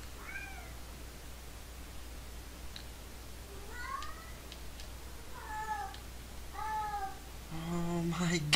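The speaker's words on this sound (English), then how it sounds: "Oh my god, cat!" A cat meows repeatedly in distinct mid-pitched calls spaced a second or so apart over a steady low hum, growing a little louder toward the end.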